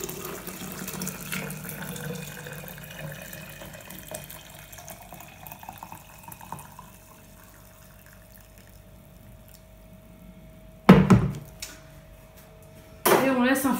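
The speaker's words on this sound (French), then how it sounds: "on met de l'eau" Water runs and trickles into a container while iced tea is being prepared, a faint pouring wash at first, then quiet, followed by two louder bursts of tap water splashing near the end.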